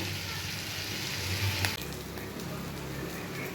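Spice paste cooking down in oil in a pan for a Bengali Bombay duck (lote fish) dish gives a steady, close frying hiss with one sharp knock midway and no talking.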